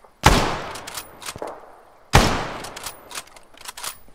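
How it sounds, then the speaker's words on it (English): Machine gun in the game Arma 3 firing two loud, heavy bursts about two seconds apart, each a sharp report with a rolling echo and a few quieter follow-up shots trailing off. "That's the machine gun that was literally gunning us down"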